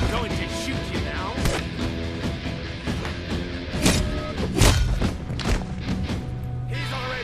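Gunshots in a video game demo, a few sharp thuds cutting through a dense, busy mix of game music and effects, with a louder cluster of impacts near the middle.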